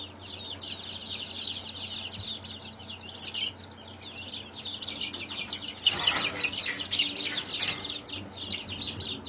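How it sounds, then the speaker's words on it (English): A week-old barred rock chick among chickens: constant high, thin peeping and chirping close by, swelling into a louder flurry about midway. "This is a week-old barred rock."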